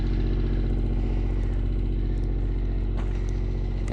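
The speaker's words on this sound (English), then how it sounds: "Listen to that sweet, sweet sound of the generator cranking." A generator running steadily at a cottage, a continuous loud mid-pitched engine drone with a faint mechanical clatter and no pauses, heard close and alone.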